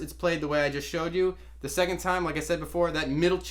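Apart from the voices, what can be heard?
No everyday noise stands out behind the speech.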